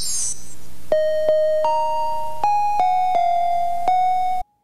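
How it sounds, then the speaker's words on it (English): Bright bell-like chimes ring out one after another, about eight clear struck tones at irregular intervals, each decaying slowly, then cutting off abruptly. "it's magic because you hear the chimes"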